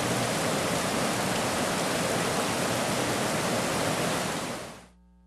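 Rainbow Falls in the Glen of Pools, a waterfall flowing steadily, a loud broadband rushing roar that holds constant and then cuts off sharply near the end.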